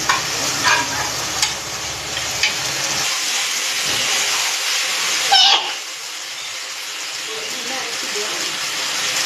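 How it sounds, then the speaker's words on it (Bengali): Pre-boiled mutton with spice masala stir-fries in a wok, giving a loud, steady sizzle and hiss with scraping stirs, a sharp spatter midway, then a quieter simmering hiss. "মশলাটা একটু কষিয়ে নিলাম"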